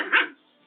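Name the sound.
person imitating a dog barking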